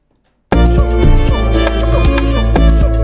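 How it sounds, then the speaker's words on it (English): A dense, loud amapiano beat with bright ticking hi-hats over deep bass and plucky synth chords, playing continuously after a short silence. "This is hi-hat."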